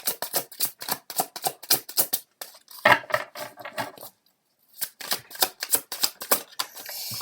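Tarot cards are shuffled and drawn close up, with quick crisp riffling bursts and slaps in a fast rhythm, a short pause, then more shuffling.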